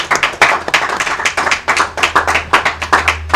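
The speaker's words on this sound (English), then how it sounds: "Clap your hands for me." A church congregation clapping their hands together, a steady run of sharp, fairly close claps that continues throughout the short stretch with no talk over it.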